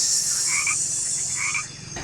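A small poisonous frog croaks twice in quick succession, close and clear over a steady high insect hiss of forest ambience.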